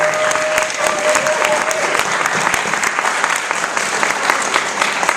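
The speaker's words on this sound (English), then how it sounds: "One more round of applause for Edison." Loud, dense applause from a crowd at a December high school showcase, an even, sustained roar of clapping with no break.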